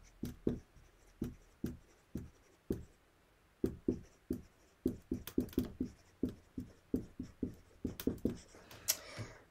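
Pen strokes on paper as notes are written by hand, a steady series of short scratchy taps and sweeps, close and clear, with no talking.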